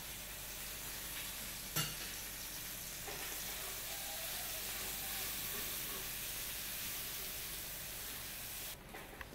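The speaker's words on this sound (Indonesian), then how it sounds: "Ya, tumisan bawang merah dan bawang putih sudah harum." Ground shallots and garlic with lemongrass and bay leaves sauté in a pan, giving a low, even sizzle that runs throughout, with one brief clatter early on and a soft knock near the end.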